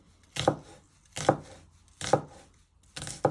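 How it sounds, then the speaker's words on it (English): A knife chops spring onion on a board with four sharp, evenly spaced strikes, close and distinct against a quiet background. "you just want to finally slice it into little pieces"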